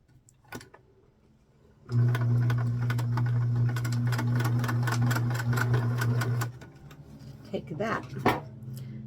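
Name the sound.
sewing machine straight stitching a dress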